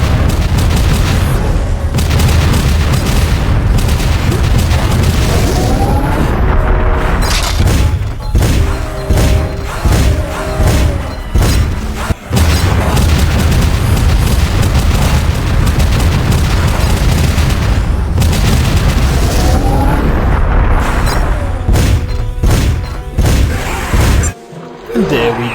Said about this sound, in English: We discovered last time it was the grenade launcher.